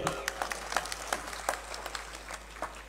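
Women clap in welcome at a Shiv Sena campaign public rally. The applause comes as a quick, uneven patter of hand claps, fairly soft and distant, with a faint voice underneath.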